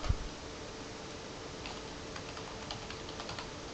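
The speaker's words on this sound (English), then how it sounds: "Just type in our password." Password being typed on a computer keyboard, a quick scatter of light close key clicks over a quiet steady hiss, with one sharper knock at the start.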